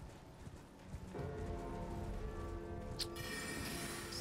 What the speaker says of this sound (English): I guess I killed this horse before.